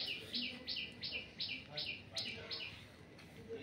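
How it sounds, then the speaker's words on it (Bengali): A myna bird chirps repeatedly in a home yard, a series of quick, evenly spaced calls at moderate distance over faint background noise. "শালিক পাখিটা আমার পেছন পেছন ঘুরছে।"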